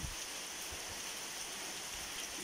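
Heavy rain pours down in Menorca, Spain as a dense, even hiss that holds steady throughout, with a few low thumps beneath it.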